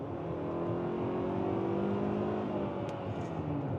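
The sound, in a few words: Hyundai Tucson XRT AWD accelerating at full throttle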